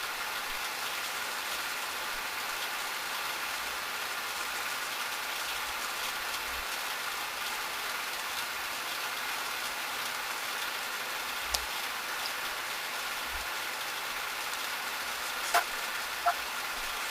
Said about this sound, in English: I turned on the fan